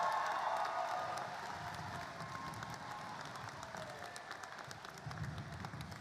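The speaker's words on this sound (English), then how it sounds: "Give yourselves a round of applause" A graduating high school class of 2021 applauds at an outdoor commencement, a dense wash of clapping that is loudest at the start and then settles into steady, even applause with a few faint whoops.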